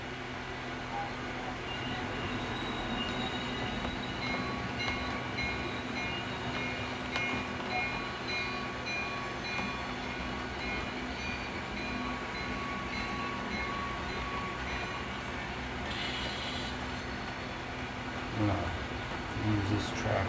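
Model train locomotive running on a layout with an ESU LokSound sound decoder, giving a steady low engine drone and faint mechanical rail noise throughout, with people talking over it near the end.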